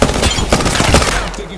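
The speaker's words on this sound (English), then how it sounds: "I'm taking fire." Rapid, loud automatic gunfire crackles in a steady stream of close shots during an Apex Legends match, then fades out near the end.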